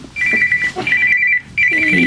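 A telephone ringtone chirping in repeated bursts with short gaps, loud and close, cutting in during an interview with little else audible.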